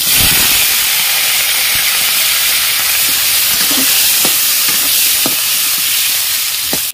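Potatoes frying in hot oil in a pan over a village cooking fire, a loud continuous hissing sizzle with a few faint scrapes and knocks, and no talking.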